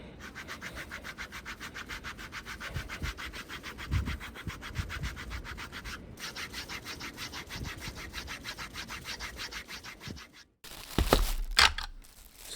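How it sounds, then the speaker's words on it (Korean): Steady rhythmic rubbing strokes of sandpaper on leather for a headphone headband, quick and even, continuing for several seconds before a brief pause and some louder handling noise. "사포로 다듬으면서 폭을 조금 줄여주고 모양을 잡아주면 될 것 같습니다"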